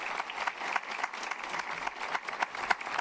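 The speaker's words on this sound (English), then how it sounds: "How about a round of applause for the work that these guys did for you?" An audience at the Westford Academy Class of 2025 graduation ceremony claps steadily, a full, moderately loud patter of many hands with no talking over it.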